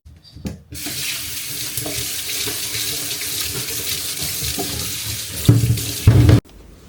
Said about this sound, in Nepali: मेसिन चाहिँ छैन त्यही भएर जहिले हातले धुनुपर्छ होइन।